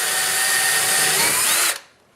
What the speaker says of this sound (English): I'm going to go ahead and drill my